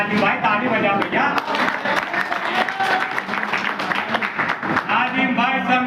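An audience at a farmers' union meeting claps steadily in dense, sustained applause, heard loud and close, with voices mixed in.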